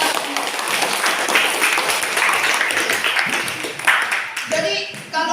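Audience clapping in a classroom-style session, a steady dense patter of applause lasting several seconds, fairly loud and close, with voices mixed in near the end.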